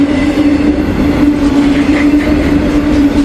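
A long freight train led by two locomotives rolls past close by, giving a loud, continuous rumble with a steady tonal whine and faint wheel squeal, and no voices.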